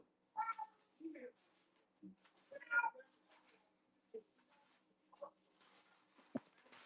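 A house cat meowing repeatedly in short, close, fairly faint calls spaced a second or so apart, mixed with a few quieter chirps and soft background noises in an otherwise quiet room.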